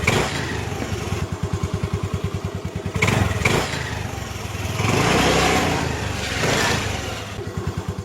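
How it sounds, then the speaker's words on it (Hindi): A scooter engine putters in a steady pulsing rhythm, revs up, and then rumbles as it passes close by, used as a sound effect in a Hindi horror story. "तभी उसे दूर से एक आदमी एक स्कूटर पर आता हुआ दिखता है।"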